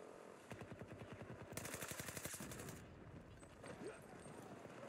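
Automatic gunfire in the video game Battlefield 2042 comes in rapid bursts of rattling shots, one long volley dense and loud, followed by quieter scattered fire.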